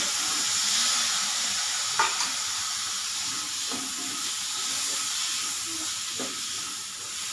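Masala sizzles and hisses in hot oil in a pan while being sautéed for a wet rajma curry, a steady close frying crackle with a few faint stirring knocks. No voices.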